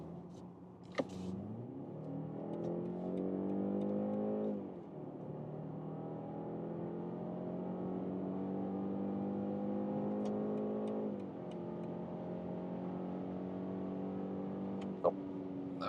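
A BMW 5 Series G60 with a 4-cylinder petrol engine accelerates steadily in sport mode with an enhanced tone, rising in pitch through two gear changes, heard from inside the cabin.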